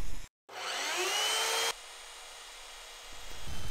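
A high-pitched power drill whines steadily for about a second while boring holes in a large wooden carving, then cuts off, leaving quiet room noise.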